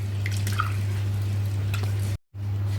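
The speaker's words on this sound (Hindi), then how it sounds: "तो इसे हम वॉश करके इसकी स्टार्च जो है निकाल देते हैं।" Water drips and sloshes while masoor dal lentils are washed, soft wet splashes and trickles over a low steady hum, cut by a brief moment of silence near the end.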